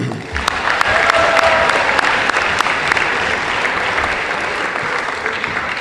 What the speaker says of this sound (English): Please, a round of applause for them too.